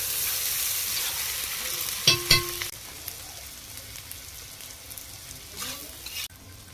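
Pieces of taro and potato drop into frying spice masala with a clattering thump and a burst of sizzling, then the hiss settles to a quieter steady fry with occasional stirring.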